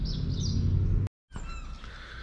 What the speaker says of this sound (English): there's birds singing in the background